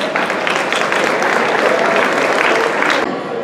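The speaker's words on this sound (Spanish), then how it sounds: "un fuerte aplauso" Loud, sustained applause fills the room at a gala dinner, a thick unbroken wash of many hands clapping that cuts off abruptly near the end.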